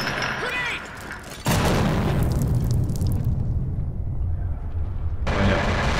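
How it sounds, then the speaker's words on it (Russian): A loud grenade explosion in the Escape from Tarkov video game, a sudden heavy boom that rolls on into a long rumbling tail, with a second burst near the end. "Граната."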